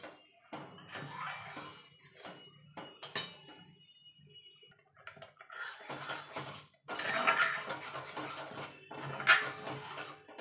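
A raw green mango is cut with a knife, producing scattered close taps, clinks and scrapes of blade and utensils in uneven bursts, with quiet pauses between them.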